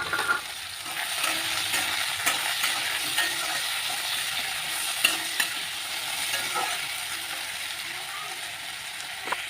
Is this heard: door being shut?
no